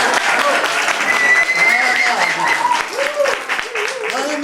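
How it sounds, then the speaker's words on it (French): Audience applause at a French café talk-show event, a dense, sustained clatter of many hands lasting throughout, with voices mixed in beneath it. "les applaudissements, les artistes, ils aiment ça, bien sûr."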